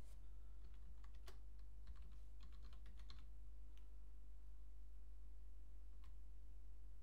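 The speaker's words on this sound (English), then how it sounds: "To start the installation, simply type sh latest." Keys clatter on a computer keyboard while a command is typed to install cPanel on CentOS: a quick run of clicks, then a few isolated taps, all faint over a steady low hum.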